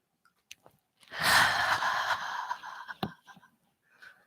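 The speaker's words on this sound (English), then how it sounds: "And take a big breath in." One deep, audible inhale through the nose and mouth as someone rises onto the toes during a qigong exercise. It swells, then trails off into softer breaths. It is close and quiet, with no talking.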